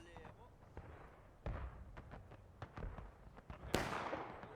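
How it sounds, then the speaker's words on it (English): Musket fire in the Civil War game War of Rights during a large 150-player battle at Pry Ford, with scattered distant and near shots cracking in irregular bursts under faint background talk. "Getting a couple shots in."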